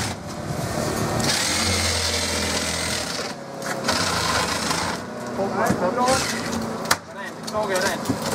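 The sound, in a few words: saw cutting car windscreen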